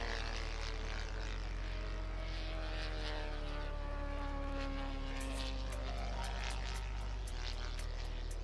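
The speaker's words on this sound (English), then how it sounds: "the Castle is a single-seat sport and racing aircraft designed in the 50s for Formula One air races." A Cassutt single-seat racing aircraft flies at an air show, its propeller engine giving a steady, moderately distant drone with a slowly shifting pitch, sustained throughout without talk.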